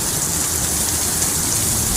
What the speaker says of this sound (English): that rain is coming down hard